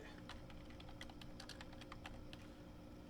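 Fingers type on a computer keyboard: quick, irregular key clicks, faint and fairly close, over a steady background hum with no talking.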